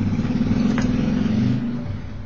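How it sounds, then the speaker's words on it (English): Big Harley-Davidson motorbikes pass along a London street, a loud low engine rumble that swells and then fades as they ride by, with no voices. "It sounds like the tourists are about on their big motorbikes today."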